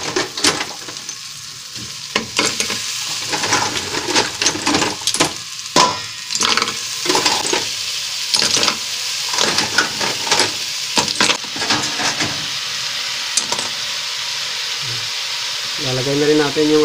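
Plicate conch (paksat) being sautéed with ginger in a pan: loud, close sizzling with repeated scraping and stirring clatter throughout, rising into a steady hiss near the end.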